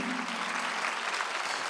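A church congregation at a Sunday worship service in Incheon applauds, steady dense clapping throughout with no voices on top.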